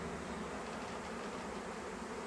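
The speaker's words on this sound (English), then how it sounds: "I'm right in the centre of a swarm of bees" A swarm of honey bees makes a dense, steady buzz that stays even and close, with no voices over it.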